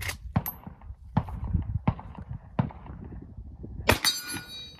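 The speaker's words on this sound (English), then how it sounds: "I'm gonna show you fellas how to shoot this gun." Small real handgun fired outdoors in Texas, several sharp cracks spaced irregularly, then a metallic clang near the end, close and loud.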